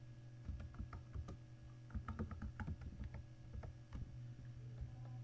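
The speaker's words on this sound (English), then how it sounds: "So let me just type something like graphic design." Keys on a computer keyboard clatter in short uneven bursts of close, soft taps over a low steady electrical hum.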